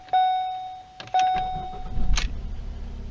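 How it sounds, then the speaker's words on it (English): A 2015 Ford Focus gives two sharp dashboard chimes, then its engine settles into a very quiet, low idle rumble. "We'll turn that off so you can hear the motor."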